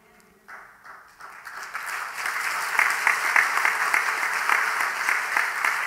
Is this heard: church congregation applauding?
yes